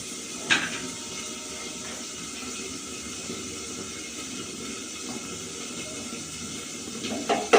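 A pressure cooker hisses steadily as it boils potatoes in salted water, a continuous broadband rush with a few faint clinks at the start and end.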